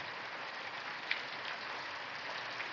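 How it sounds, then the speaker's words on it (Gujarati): Dense, steady hiss of heavy rain pouring down, close and continuous, with a few sharper drops standing out. "ફૂલ વરસાદ ચાલુ છે"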